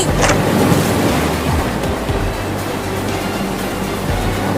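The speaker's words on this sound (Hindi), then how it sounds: "लगता है टंकी फट गया और टंकी का सारा पानी घर में आ गया है।" Water from a burst tank gushing into a house, a loud, steady rushing wash that holds throughout with no voices over it.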